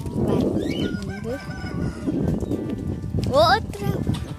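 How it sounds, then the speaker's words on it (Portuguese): Chickens on a farm cluck and a rooster crows sharply near the end, with other clucks scattered through, while a person talks over them outdoors. "E as galinhas tá ali."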